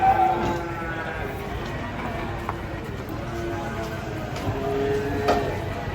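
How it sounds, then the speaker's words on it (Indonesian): Agitated cattle unloading from a truck at a market, with cattle sounds and hoof movement under a noisy outdoor din and people talking nearby. "Wah, Dito kedatangan sapi ngamuk guys."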